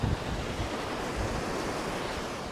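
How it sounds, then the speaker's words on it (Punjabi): A mountain waterfall on a Kheerganga trek, heard as a loud, dense, unbroken rush of falling water close by, steady throughout with some wind buffeting and no voices. "ਆ ਦੇਖੋ ਬਈ ਝਰਨਾ ਕਿਵੇਂ ਪਾਣੀ ਆਉਂਦਾ"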